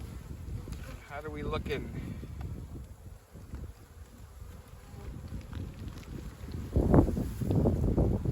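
Honeybees buzz around an open hive during the first spring inspection as a frame is lifted out, a steady close drone mixed with wind noise while a person speaks briefly.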